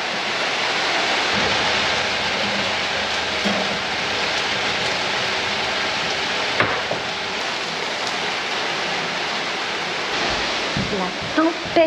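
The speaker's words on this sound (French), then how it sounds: "Il pleut dans la cuisine." Rainwater pours and drips into a house kitchen during a storm, a dense steady hiss of falling water with occasional knocks and splashes, loud and unbroken.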